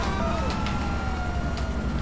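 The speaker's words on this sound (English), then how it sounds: "I'm killing my siren." A police car siren in GTA 5 with LSPDFR wails under loud engine and road noise, with a faint falling tone that suggests it is being cut off.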